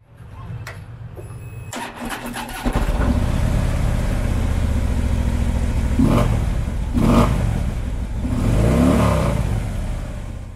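2015 Harley-Davidson Street Glide Special V-twin motorcycle starting with a few clicks, then idling loudly with a steady throb and several rising revs toward the end.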